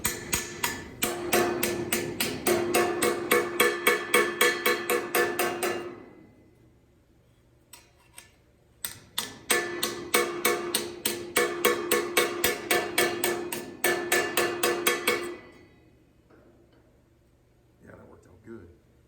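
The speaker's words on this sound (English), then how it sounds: "Now I'm going to use this edge of the hammer to smooth that panel out this way" The edge of a hammer strikes a rounded metal panel to smooth and flatten it, delivering two long runs of rapid, evenly spaced metallic blows close up, separated by a quiet pause with a few scattered taps.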